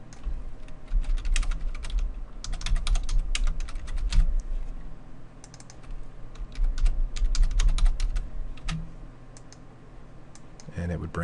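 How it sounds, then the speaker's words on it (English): Someone types on a computer keyboard in quick, irregular bursts of close clicking keystrokes with short pauses between them. "where we could type in"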